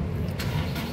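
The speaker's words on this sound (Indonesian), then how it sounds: "nah sekarang kita coba nyalakan mobil" A 2011 Honda CR-V 2.0 with a manual gearbox starts up, catching at once with a brief burst of starter noise that settles into a steady, close idle.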